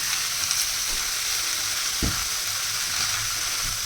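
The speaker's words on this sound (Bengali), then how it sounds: "কড়াইতে না আমি রান্না করছি" Food sizzles and fries steadily in an iron kadai with very little oil, a close, even crackle with a soft stir or scrape near the middle and no talking.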